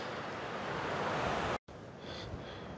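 Broadband wash of sea waves and wind at an Arctic Ocean roadside stop in Lapland, steady and fairly faint, broken by a brief dropout before the surf hiss resumes.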